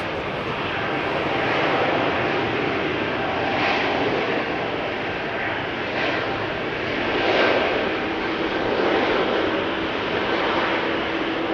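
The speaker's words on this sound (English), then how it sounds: "That's an E2 spooling up, going to Marseille." Embraer E2 jet engines spool up at Amsterdam Schiphol Airport, a steady broadband roar from a distance that swells gently and holds for about twelve seconds without talk.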